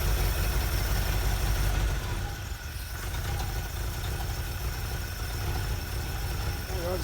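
A 1967 Chevy C50 truck engine with a rebuilt carburetor idles steadily on about half choke while warming up, a loud continuous low rumble with a slight dip partway through.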